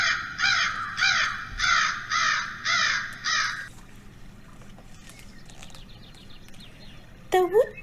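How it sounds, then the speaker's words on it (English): Crows caw loudly in a steady series of about six harsh calls close to the microphone, then fall quiet; a short rising bird call follows near the end, all forming a bedtime story sound effect. "The crows croaked, caw, caw, and Owl tried to sleep."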